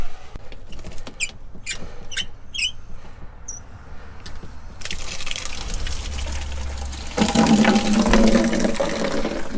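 Water runs to fill a storage tank at an off-grid tiny house. It starts with a few sharp squeaks and clicks, then becomes a steady rushing flow that swells louder and gushes near the end.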